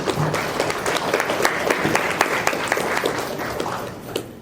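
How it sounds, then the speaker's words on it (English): An audience at a Kuchipudi dance debut bursts into steady, dense applause, many hands clapping together at fairly close range and holding strong before easing slightly at the end. "Let's give her a big round of applause"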